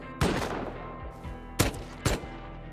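Gunfire strikes base turrets in the survival video game Rust: three sharp, loud shots land about half a second, a second and a half later, and then shortly after, over a steady low background hum.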